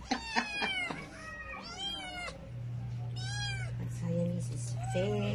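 A stray Siamese cat meows repeatedly and close by while being fed, giving several drawn-out, wavering cries with short pauses between them over a low steady hum.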